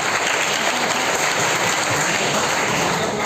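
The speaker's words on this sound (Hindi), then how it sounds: "जोरदार तालियां।" Loud, sustained applause fills a hall at a children's festival quiz, dense and even clapping from a large crowd with no letup.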